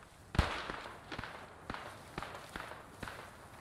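FG42 rifle fire in the Post Scriptum World War II game: several sharp, fairly distant shots spaced roughly half a second apart over a low ambient background.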